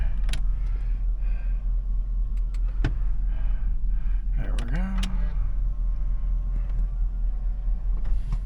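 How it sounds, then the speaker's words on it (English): The power folding mirrors on a 2006 Hummer H2 with a 6.0L LQ4 engine whir briefly as a small motor moves, near and moderately loud. A low steady hum sits beneath, with a few clicks before it. "Power folding mirrors."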